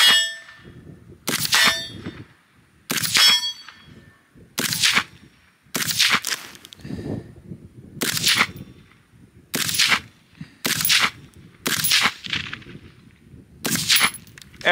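About ten sharp gunshots ring out one at a time at a fire extinguisher, each with a bright metallic clang, spaced roughly a second or two apart and heard clearly at a moderate distance.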